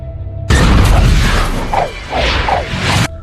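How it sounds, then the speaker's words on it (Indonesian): A sudden loud car explosion in the film Final Destination 2 bursts in and rumbles on with crashing, whooshing debris for a few seconds, then cuts off abruptly. "Dan tak lama, Rory pun ikut tewas setelah ledakan mobil milik Kate."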